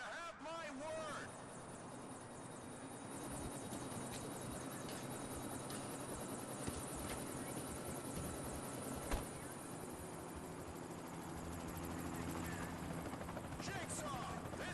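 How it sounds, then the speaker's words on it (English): Helicopter rotor and engine noise arriving in the video game The Punisher, a steady loud drone throughout with game music and sound effects mixed in and voices calling out over it. "Chopper's here, Jigsaw!"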